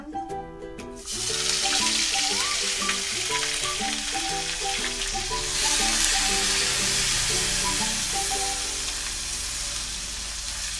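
Onion paste sizzles and fries in hot oil for a Bengali soybean and potato curry, a loud steady crackle after a brief quiet start, with faint tonal background music running underneath throughout.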